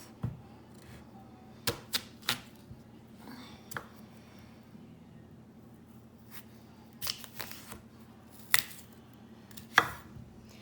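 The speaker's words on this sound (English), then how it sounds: "So how I like to cut potatoes is I'm just gonna cut it in half." A knife slicing potatoes in half on a cutting board gives scattered sharp chops, some single and some in quick pairs, with quiet pauses between. A steady low kitchen hum runs underneath, and nobody talks.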